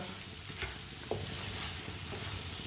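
Punjabi-style pickle masala cooks in a pan, giving a steady low sizzle with a few faint stirring scrapes and no voices.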